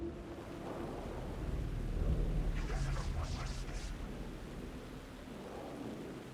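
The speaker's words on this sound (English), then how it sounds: "The rain never stopped falling." Rain falls steadily in the dark, rain-soaked world of the video game Alan Wake 2, with a rumble of thunder swelling midway and a brief crackle, continuous and fairly close throughout.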